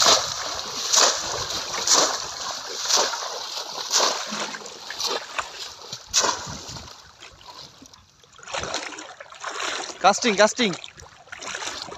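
A fishing cast lands in river water with repeated splashes and sloshing, interrupted by voices talking nearby throughout.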